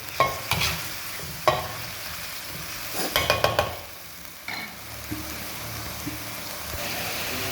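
Ingredients stirred together in a sizzling pan for a Thai stir-fry, with a few quick bursts of spatula scraping over a soft, constant frying hiss; no voices.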